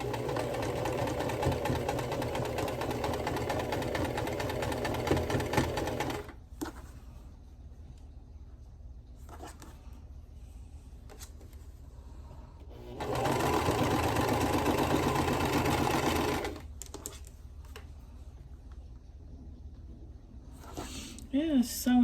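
A sewing machine runs smoothly along a quilt row, with two sustained bursts of steady whirring separated by a quieter stretch and faint handling sounds.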